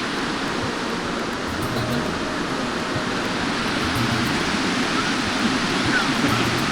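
Water at the Nanak Sagar dam makes a steady broadband rush like a waterfall or heavy flow, loud and continuous, with no talk over it.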